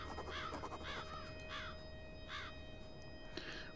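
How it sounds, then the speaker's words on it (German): A raven in the video game Black Mirror 2 caws about five times, harsh, evenly spaced calls at moderate distance over a low background hum. "Wo ist denn der Rabe?"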